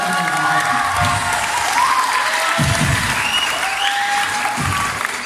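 A live audience at a Miss Gay pageant in Cabanatuan City applauds steadily, with a dense wash of clapping and faint crowd murmur throughout and a few low thumps mixed in.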